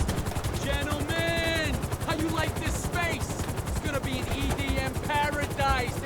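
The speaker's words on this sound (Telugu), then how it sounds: "హెలికాప్టర్ వస్తుంది." A helicopter arrives in the video game GTA 5, its rotor chopping steadily throughout under bright, chirping tonal game sounds.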